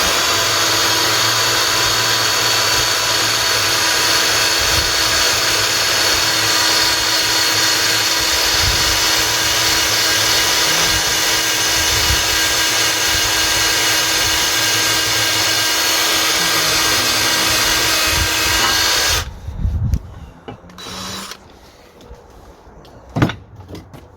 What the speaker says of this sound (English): Hopefully this grinder will take care of that